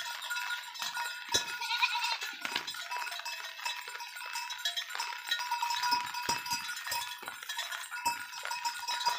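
Goats bleat on and off while they are herded through steady rain, their calls scattered over a constant hiss of falling rain, with faint clinks and a possible cowbell now and then.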